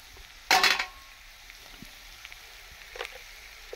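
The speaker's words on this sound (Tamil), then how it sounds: "இந்த காய் இப்படியே வதங்கட்டும்." Vegetables sautéing in a pan with a little chili powder, opening with a short loud sizzle that quickly fades into quiet background cooking with a few faint clinks and stirring taps.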